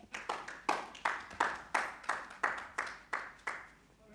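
Audience at an election preparedness media briefing applauds in a steady series of about a dozen sharp, evenly spaced bursts of clapping, moderately loud and without talk.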